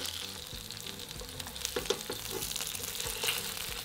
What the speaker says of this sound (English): Fry for 3 minutes until golden, then turn the salmon over and move to one side of the pan.